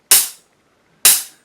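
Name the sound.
hi-hat played on Zildjian low volume cymbals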